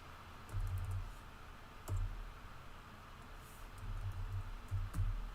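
Someone types on a computer keyboard during a cosplay pattern-making session, with faint, sparse key clicks coming in short scattered bursts over a low room hum, quiet and close with no talking.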